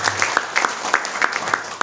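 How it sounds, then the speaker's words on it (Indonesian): Scattered applause from a church congregation, with distinct individual claps ringing out in an uneven rhythm, fairly close and moderately loud, with some voices mixed in. "Yang percaya boleh berikan tepuk tangan."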